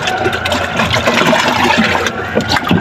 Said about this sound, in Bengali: ভালোভাবে মিক্সার করতেছি, ভালোভাবে ডাইলেশন দিয়ে দিলাম, পানিটা ভালোভাবে মিশিয়ে দিচ্ছি।